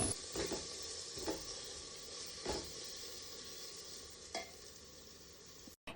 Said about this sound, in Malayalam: ഇനി ഇതിലേക്ക് അല്പം മഞ്ഞൾപ്പൊടി, ഗരം മസാല, മല്ലിപ്പൊടി ഇത്രയും ചേർത്ത് നന്നായി ഇളക്കണേ